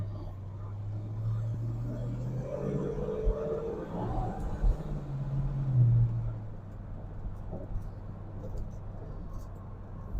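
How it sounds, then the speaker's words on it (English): A 1968 Ford Mustang California Special with Flowmaster mufflers gives off a deep, throaty exhaust rumble at a steady idle, with a brief swell of revving in the middle, heard under someone talking. "It has a real nice throaty, deep sound to it from the exhaust system that's on it."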